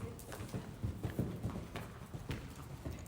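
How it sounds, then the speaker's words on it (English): Horse hooves cantering around a circle in a riding arena, a quiet, regular three-beat drumming of footfalls at a consistent stride, fairly distant and steady throughout. "regulate the canter to get a nice consistent strides throughout this circle"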